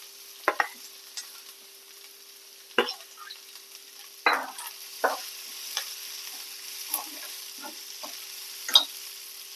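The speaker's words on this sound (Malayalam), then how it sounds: "സവാള ചേർത്ത് ഒന്ന് വഴറ്റി ശേഷം ഇതിലേക്ക് പച്ചമുളക് ചേർത്ത് കൊടുക്കാം." Onions and green chillies sautéing in a pan for Kerala egg thoran, with repeated clear stirring scrapes and bursts of light sizzle spaced irregularly over a quiet background, no talk.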